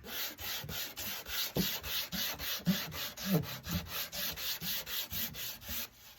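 Sandpaper rubs lightly across the back of a wooden Dollar Tree Easter cross in a steady back-and-forth rhythm of about three strokes a second, close and soft, with no voices.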